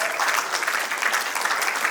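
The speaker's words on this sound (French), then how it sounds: "Est-ce qu'on peut l'applaudir" Steady applause from a summit audience greeting a comedian from a Dakar comedy club, dense and continuous clapping that fills the room at an even level throughout.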